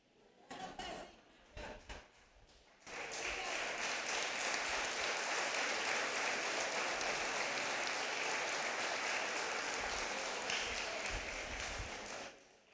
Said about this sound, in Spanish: Qué aplauso tan pacífico.